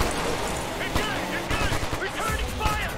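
Gunfire from the video game Ghost Recon Future Soldier, a rapid burst of shots over game sound and music, loud and dense, with a voice talking over it.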